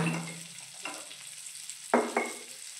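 Ghati masala is stirred in a frying pan with a few separate scrapes and knocks of the spoon against the pan over a faint sizzle, close and without talk.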